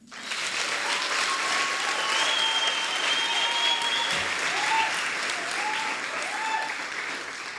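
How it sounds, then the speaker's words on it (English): A crowd at a student representative council inauguration breaks into steady, sustained applause for the council members, the dense clapping even and full for several seconds, with a faint voice or two rising beneath it. "please give them a round of applause"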